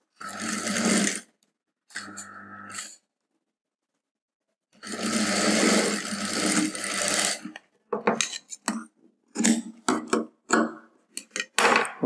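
A sewing machine stitches a folded edge on a collar-neck shrug cap blouse. It runs in close, steady bursts of whirring stitching, three longer runs and then a string of short, irregular spurts separated by pauses.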